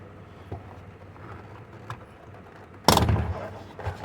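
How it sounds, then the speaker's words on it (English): A plastic door panel clip on a 2005 to 2009 Buick LaCrosse driver's door pops loose under a pocket screwdriver with one sharp, close crack. Faint handling noises come before and after it. "go around the door here and pop all your clips"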